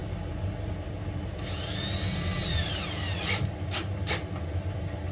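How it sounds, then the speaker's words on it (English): A power driver whirs as black drywall screws are driven into a van's rear door inner panel, the motor's pitch rising and falling under steady background noise and ending in a few sharp bursts. "You'll see me using these black drywall screws a lot, plasterboard screws."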